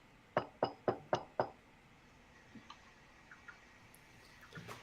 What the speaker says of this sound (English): you hear this knock on the door.